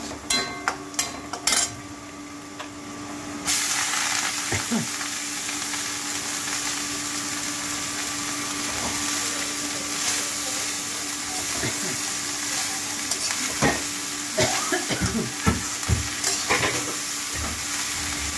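Nalte greens with turmeric sizzle and fry in a pan while being stirred, giving a steady hiss broken by scraping clatters. Sharp knocks come near the start and again later.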